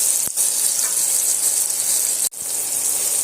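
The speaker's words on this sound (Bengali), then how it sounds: "টমেটোটা খুব তাড়াতাড়িভাবে এইভাবে ভাজা হয়ে যায়" Tomatoes frying in a pan and being stirred, giving a steady close sizzle throughout with a brief dip in the sound near the end.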